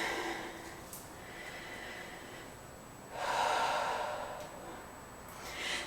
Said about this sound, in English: We're going to take a couple more breaths here.